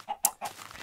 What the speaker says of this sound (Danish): der var også nogle høns